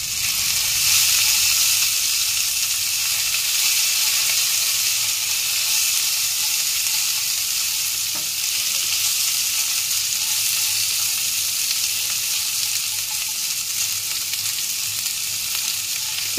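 Chopped green chilies sizzle steadily in a hot frying pan, a loud continuous hiss of frying with faint scraping of stirring, no talking.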